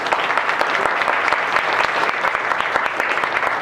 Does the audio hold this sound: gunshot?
no